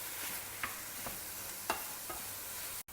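Tomatoes and chopped vegetables stir-fried together in a pan give a soft steady sizzle, with faint scrapes and light taps from the spatula.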